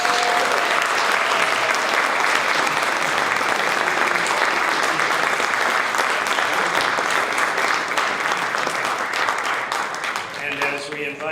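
A large audience at a Martin Luther King Jr. community breakfast gives award winners a dense, sustained round of applause that holds steady for about ten seconds before starting to fade.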